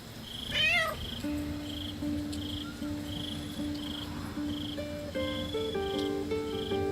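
A cat meowing in the video game Baldur's Gate 3, a single short rising meow near the start over a steady bed of chirping crickets and gentle tonal game music, fairly quiet.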